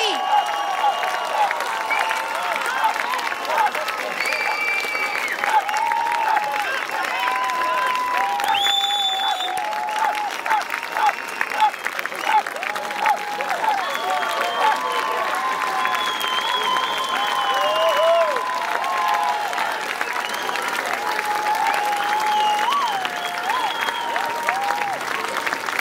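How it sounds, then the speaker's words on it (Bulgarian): A concert audience at an outdoor music event on a river keeps up loud, sustained applause without break, with a few whistles and cheers rising over the dense clapping. "Бурни аплодисменти!"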